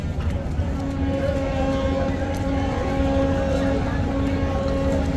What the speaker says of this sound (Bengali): বিউটিফুল সার্ভিস মাস্টার মানামি ঘাট ত্যাগ করলো, দেখতে পাচ্ছেন